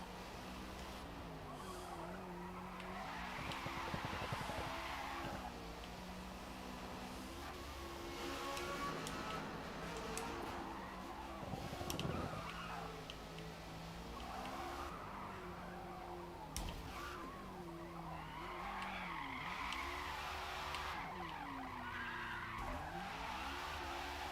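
Racing in Forza Motorsport, a car's tires squeal repeatedly through corners over a continuous engine drone, with sustained skidding bursts across the run.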